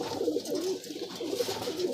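Madrasi pigeons from a Kolkata breeding pair, the female among them, give soft repeated throaty coos in a quick wavering rhythm, close by and alone.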